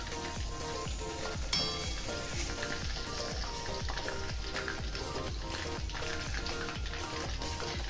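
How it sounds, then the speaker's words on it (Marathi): Steady, dense sizzling of chicken 65 frying in hot oil, close and continuous, with a faint clink partway through and no voices. "सगळे चिकन आपलं फ्राय झालेले आहे"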